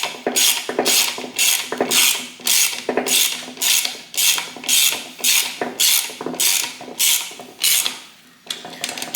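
A ratchet wrench tightens the top end bolts on a Harley-Davidson Panhead with Cometic gaskets, making repeated close, crisp clicking bursts in a regular rhythm of about a dozen strokes with brief pauses between them.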